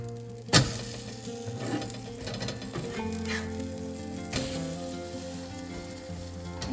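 French toast frying in butter in a pan, a steady close sizzle with a sharp clatter as the slice is flipped and a few soft scraping and tapping touches afterward.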